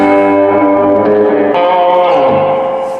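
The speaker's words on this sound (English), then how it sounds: "it's got a whole sort of spring reverb sound built into it" Sustained guitar chords ringing with heavy spring-style reverb and a slightly distorted, washy tail, loud and alone, fading slightly at the end.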